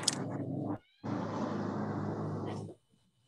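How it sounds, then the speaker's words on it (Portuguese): A female house cat meows loudly and close by indoors, asking to be let out, with two drawn-out calls separated by a short pause. "só um minuto que a minha gata tá querendo sair aqui"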